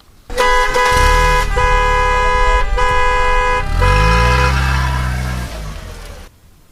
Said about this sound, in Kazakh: Автокөлік